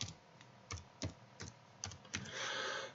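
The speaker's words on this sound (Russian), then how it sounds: "Я пишу прихожая." A room name is typed on a computer keyboard in architectural design software, a steady run of distinct key clicks at a moderate pace, close and quiet, ending in a brief rushing noise.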